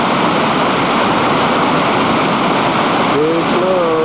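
Flooding Ventura River at its junction with Matilija Creek during the 1998 flood, a loud continuous roar of rushing water with someone speaking briefly near the end.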